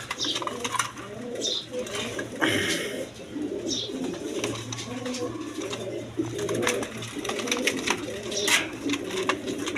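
Pigeons at a bird sale coo repeatedly in soft overlapping throaty calls, close and steady, mixed with occasional chirps, wing rustles and faint background voices.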